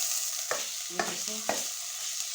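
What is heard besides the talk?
minced meat (keema) frying in a pan with onions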